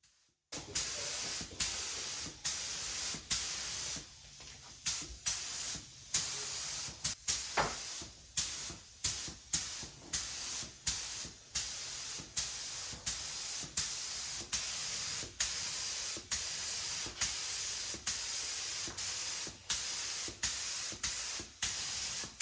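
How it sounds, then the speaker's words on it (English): Matte polyacrylic finish is sprayed from an aerosol can in short repeated hissing bursts, a steady rhythm of close spray pulses with brief gaps between them throughout. "I added 2 coats of matte polyacrylic."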